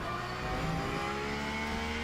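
Porsche GT3 race car engine in the racing game Le Mans Ultimate, a steady sustained drone at high revs, continuous and fairly loud with no talk over it.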